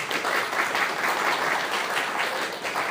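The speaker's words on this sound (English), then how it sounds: "Can we give you a round of applause" An audience at a business talk applauds, a dense, steady wash of many hands clapping for about three seconds, even in loudness throughout.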